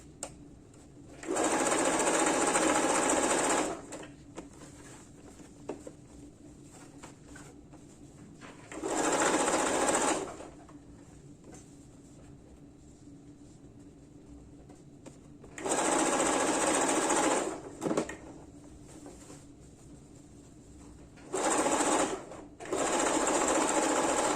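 A sewing machine stitches fabric for a wrap top in bursts, four loud whirring runs of needle chatter separated by quiet pauses, close and mechanical.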